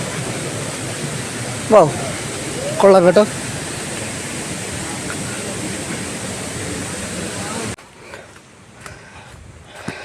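Haritheerthakkara waterfall at Chooral near Cherupuzha–Payyannur, Kannur, sends up a broad, steady roar of rushing water; a man briefly exclaims over it, and the roar drops away sharply near the end.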